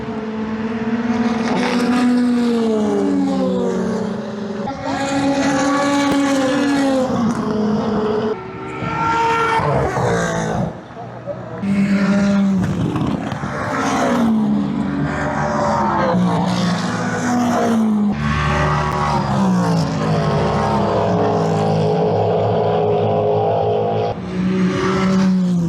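Race cars at full speed during the 2025 Le Mans 24 Hours hyperpole qualifying session, heard from near the karting corners: loud engine roars rising and falling as cars pass one after another, continuous and close.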